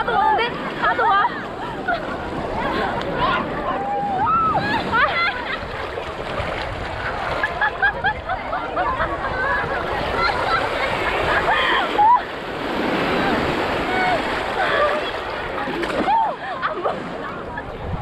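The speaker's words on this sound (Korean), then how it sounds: "아, 파도 오는데? 파도 와." Steady rushing and splashing of ocean waves breaking surges throughout at Shark Beach, Nielsen Park, Sydney, with people shouting and talking over it close by.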